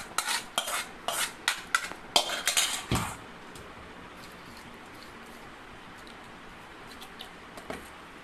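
Mango pulissery curry being stirred in a pan, giving a quick run of close, sharp metallic scrapes and clinks over the first three seconds, then near quiet with a few faint taps.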